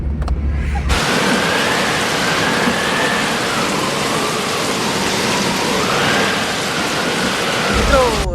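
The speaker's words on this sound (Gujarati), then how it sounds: "રસ્તામાં વરસાદ ચાલુ થઈ ગયો છે" Steady rain falling during a road trip to Khambhalia, a dense continuous hiss heard from inside a travelling vehicle, with no talk over it.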